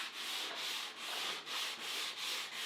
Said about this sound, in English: I'm going to get started on this 220 and give it a sand with that.